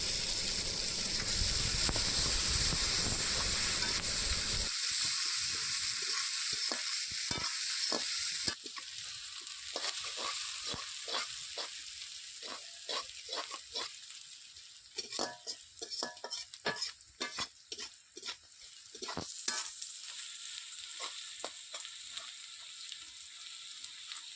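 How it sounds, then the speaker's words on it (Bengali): Chopped onions fry in leftover oil in a wok, a loud, continuous sizzle that suddenly drops away, followed by scattered scraping and clinking stirring strokes with a softer hiss beneath. "পেঁয়াজ কুচিগুলি দেওয়ার পর এগুলিকে একটু ভালোভাবে ভেজে নিতে হবে।"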